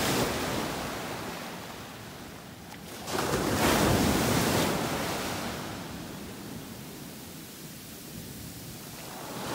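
Ocean waves wash onto a beach in North Naples, Florida, a broad rushing surf that swells loudly in the middle and eases back to a steady wash, with some wind noise.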